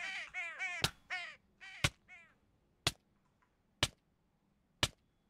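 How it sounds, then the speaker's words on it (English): Crows caw in the Minecraft Bedrock video game, four or five harsh, hoarse calls in a quick series near the start, punctuated by sharp, loud clicks that repeat about once a second and continue alone afterward. "Also, I heard crows."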